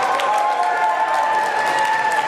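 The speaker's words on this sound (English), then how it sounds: "you can hear the applause behind you there, Rob" A large crowd applauds and cheers continuously at a local election count in a busy hall, loud and sustained throughout.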